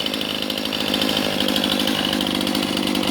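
A freshly sharpened chainsaw cuts steadily through wood, throwing big curls, its engine roaring loud and close at a constant high pitch with a dense buzzing chain rattle throughout and no talk.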